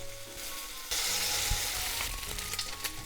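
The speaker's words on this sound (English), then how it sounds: "I'm gonna fry the bacon and also the onions." Bacon frying in a little oil in a frying pan, a steady close sizzle that jumps louder about a second in as more meat hits the hot surface, with faint crackles and pops throughout.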